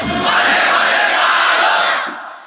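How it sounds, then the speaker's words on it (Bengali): A large crowd shouts a takbir chant in unison at a religious gathering, one loud sustained roar of voices that swells and then fades near the end. "এবার সবাই দেবেন একসাথে লিল্লাহি তাকবীর"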